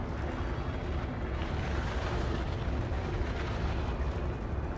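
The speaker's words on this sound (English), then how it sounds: "They are letting me have it with missiles." Missile explosions in the video game Star Citizen form a dense, continuous roar of booming, rumbling blasts that stays loud and unbroken throughout, with no clear voices.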